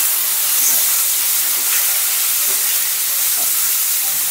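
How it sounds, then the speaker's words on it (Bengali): Cut potatoes fry in hot oil with whole spices, making a loud, dense, continuous hiss that stays even from start to finish, with no voices. "গরম তেলে অল্প পরিমাণ ফোড়ন দেব, এরপর আমি কেটে রাখা আলুগুলো খুব সুন্দর করে ভেজে নেব লাল লাল করে।"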